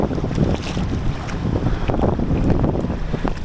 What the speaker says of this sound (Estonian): Mingid võimsad diiselmootoriga pillid on siin.